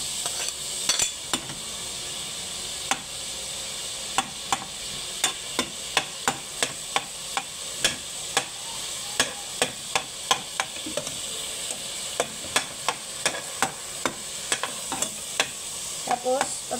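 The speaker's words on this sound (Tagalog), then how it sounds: "At ilalagay na, magigisa naman po tayo ng sibuyas bawang." Chopped onion and garlic sauté in a pan for creamy sopas, a steady sizzle broken by sharp, repeated clicks and scrapes of a utensil stirring against the pan, with no one talking.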